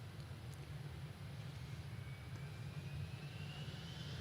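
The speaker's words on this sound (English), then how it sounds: "Jetstar making its way out. Like we said, this one's off to Brisbane. Jetstar 803. It is the 320." A Jetstar Airbus A320 taxis out at Adelaide Airport, its jet engines giving a steady, distant low roar and whine, with no speech.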